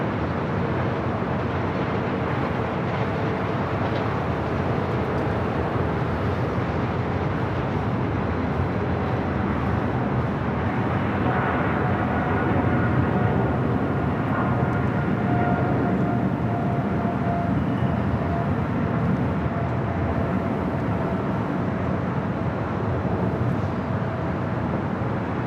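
A CRJ 200 regional jet arrives on runway 24 right at LAX, its engine noise a steady broadband roar that swells slightly in the middle, heard at a distance against airport ambience.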